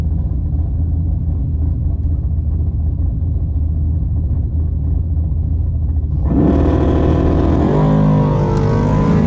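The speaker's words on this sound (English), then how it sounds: "Next pair, Chris Rossman finishing the burnout in the first gen Camaro in the left lane." A first-generation Camaro finishes a burnout in the left lane at a drag race shootout, a loud, heavy rumbling engine that suddenly swells into a harsher, higher roar near the end.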